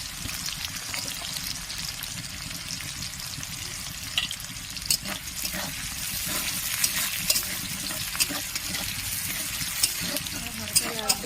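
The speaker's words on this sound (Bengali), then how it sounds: "এগুলো একদম লাল করে ভেজে নেবো পেঁয়াজের" Onions frying in a pan for a potato and soybean curry, a steady broadband sizzle with scattered sharp crackles and spatula scrapes from stirring, growing a little busier toward the end.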